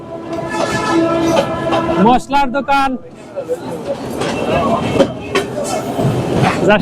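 A Dhaka–Narayanganj commuter train rolls through a cramped market lane, brushing past shopfronts, its steady rumble and rattling carriages continuous under someone talking nearby.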